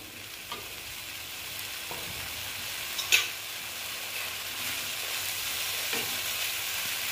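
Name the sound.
frying spices for paneer bharta in a pan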